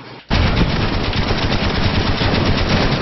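Rapid automatic gunfire from a Call of Duty video game bursts in after a brief pause and continues as a dense, loud, continuous rattle of shots.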